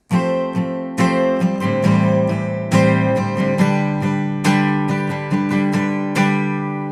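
A guitar strums through the chorus chord progression of a song, each chord struck firmly and left ringing, with several quick changes and no voices.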